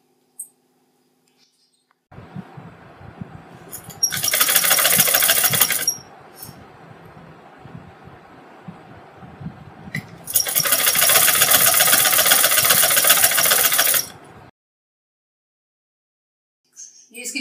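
A sewing machine stitches a fabric belt on harem pants in two fast, close bursts, a short one and then a longer one, with a lower idle hum in between and silence at either end.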